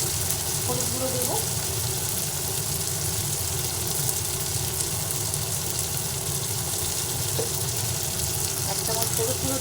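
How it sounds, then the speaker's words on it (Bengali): Spices frying in a pan with a chopped tomato added for a vegetarian dish: a steady, continuous sizzle that stays even and fairly loud throughout. "মশলা ভাজা হতে হতে এর মধ্যে একটা টমেটো কেটে দিয়ে দিলাম, খন্ড করে দিলাম।"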